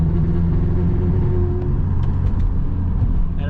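A Subaru Legacy GT (EJ20Y) engine drones steadily under boost at half throttle, its low rumble holding through the clip with slight stumbles near the end as it cuts out, heard from inside the car.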